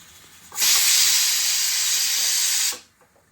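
Whole spices (bay leaf, dried red chilli, cinnamon, cloves and star anise) hit hot ghee for a kadhi tempering, bursting into a loud, close hissing sizzle that holds steady for about two seconds, then cuts off.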